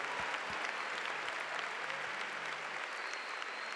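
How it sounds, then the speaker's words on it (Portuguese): A large conference audience at a Christian worship event applauds, a dense and steady wash of clapping from many people that fills the whole moment at an even level. "Aplauda o Senhor pela vida desses caras."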